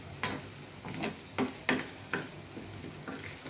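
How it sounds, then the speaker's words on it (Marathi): Pithla, a thick gram flour dish, bubbling and cooking on a tava, with soft periodic plops and light sizzling at a gentle, uneven rhythm, close and quiet. "बघतोय आपण आता हे पिठलं शिजतंय।"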